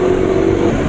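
Steady, loud motorcycle engine idling close by on 4amalube Silver 20W40 oil, a continuous buzzing drone with a faint rattling vibration and no break through the short stretch.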